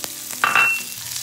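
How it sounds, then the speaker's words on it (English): Garlic clove and chopped green onions saute in a pan for Filipino pancit, a brief close sizzle that flares suddenly and then settles into a soft hiss, with no talking. "And we're gonna saute this for a couple minutes."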